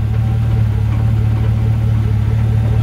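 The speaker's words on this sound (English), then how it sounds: "get a sound of the exhaust back here" A 1977 Camaro Z28 runs steadily at idle, its exhaust heard from behind the car as a loud, constant low rumble with no voices.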